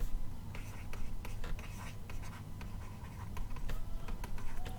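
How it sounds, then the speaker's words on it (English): Chalk or a marker scratches out equations on a lecture board in short, quick, close strokes over faint room murmur, with no clear speech. "I'll just write this out here"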